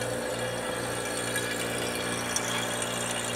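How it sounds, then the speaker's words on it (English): A vacuum pump on a laboratory glove box unit runs steadily, giving a constant mechanical hum with a faint rattling edge, close and even throughout with no speech. "You can hear the vacuum pump running."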